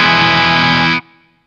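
An electric guitar plays through a Boss OS-2 OverDrive/Distortion pedal with every knob set to the middle. One loud, thick, distorted chord sustains for about a second, then cuts off abruptly and leaves a faint tail.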